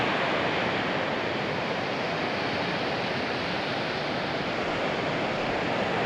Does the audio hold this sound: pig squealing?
no